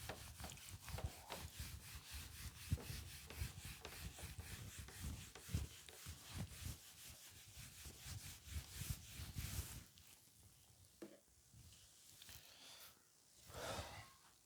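A classroom board is rubbed clean with rapid back-and-forth scrubbing strokes for about ten seconds, then a few softer wipes and brief rustles, close and fairly quiet with no speech.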